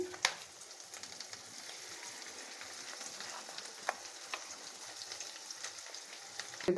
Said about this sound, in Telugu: తాలింపులో కాసేపు ఇట్లా వేపుకోవాలండి పచ్చడి అంతా